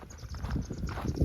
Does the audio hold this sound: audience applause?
no